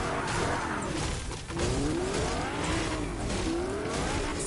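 A car drives in the Fortnite video game, its engine humming steadily while tires squeal and skid in a few rising sweeps, with no voices over it.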